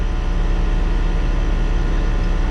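A Honda CRX with all-wheel drive idles at a constant, smooth rumble that never rises or dips, steady and close for the whole stretch.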